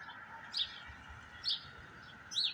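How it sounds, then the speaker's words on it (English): Birds outdoors giving three short, high chirps at spaced intervals, moderately close, over a steady hiss of background noise. "go back and listen to the birds."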